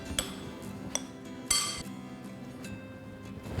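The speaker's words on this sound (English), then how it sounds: "Now I'm just going to mix them all." Quinoa salad with sliced onions, asparagus, apple and radish juliennes gets mixed in a bowl, giving a few sparse clinks and taps of utensil against dish, moderately close and quiet, with no talking.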